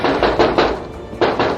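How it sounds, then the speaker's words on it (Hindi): Loud knocking on a bathroom door at night: a rapid run of heavy knocks, a brief pause, then another burst of pounding, close and insistent. "जोर जोर से खटखटाते हुए उत्तम की मां बाथरूम के बाहर से चिल्लाने लगी"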